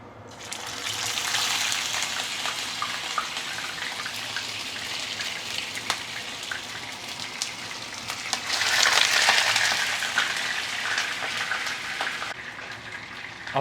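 Fish frying in oil heated to at least 180 degrees Celsius, a continuous busy crackle and hiss that holds steady and then surges louder partway through before easing off.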